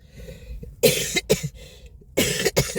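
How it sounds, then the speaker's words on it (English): Three harsh coughs in a row, close and fairly loud, with brief quiet gaps between them and no talking. "I have that cough."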